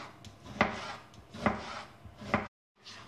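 Tomato chopped with a knife on a cutting board: three evenly spaced, crisp close chops with soft slicing between them, then a brief silence, no speech.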